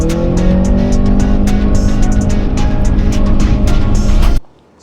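A 2026 Honda CR-V TrailSport Hybrid accelerating hard in sport mode, a loud sustained engine drone with rising tones heard up close for about four seconds before cutting off abruptly into near silence.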